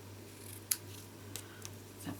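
Quiet snips of ribbon scissors cutting ribbon, two or three short sharp cuts spaced apart, over a steady low hum.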